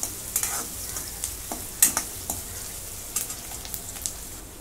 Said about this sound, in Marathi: आता कांदा पण 2 मिनिटं मी परतून घेते